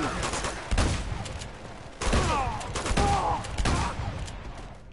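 Repeated loud gunshots ring out in Uncharted combat, roughly four heavy bursts spaced about a second apart, each followed by a ringing, echoing tail and some debris clatter, with no talking.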